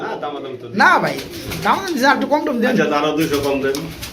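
Pigeons coo in several close, rising and falling calls that overlap one another, alongside what sounds like low human voices.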